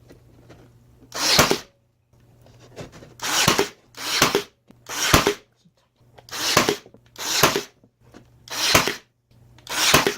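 A brad nailer drives nails into a wooden bowl stand, firing about nine sharp, close pneumatic bursts at an irregular pace with brief quiet gaps between them.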